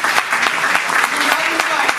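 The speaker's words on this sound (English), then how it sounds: "a big round of applause" Audience applause at the Mumbai Fest announcement event, a steady wash of clapping from the crowd lasting the whole moment, with voices talking over it.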